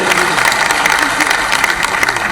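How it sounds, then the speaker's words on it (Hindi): Dense, loud audience applause fills a hall at a regional industry conclave in Rewa, a steady wash of many hands clapping without pause, with crowd noise mixed in. "जरा ताली वाली बजा दो सबके लिए"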